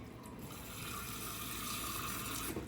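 Water running steadily from a kitchen tap, a quiet continuous gushing stream that holds evenly for a few seconds before cutting off near the end.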